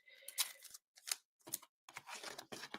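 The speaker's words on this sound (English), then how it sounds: "So I'm just going to put a little bit of tape on." Short rips of tape pulled off a roll and pressed down, a handful of quick close tearing bursts separated by brief silences, quiet and isolated.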